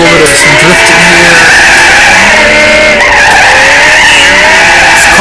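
A Ferrari 458 Italia drifts with tires skidding and squealing continuously, a loud, sustained screech over engine roar that wavers in pitch throughout.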